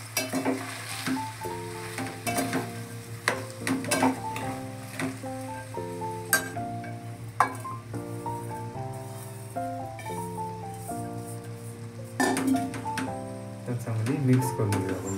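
Sabudana khichdi being stirred in a pan over low heat, a soft sizzle with scraping and clinking spoon strokes, close, under steady background music with occasional speech.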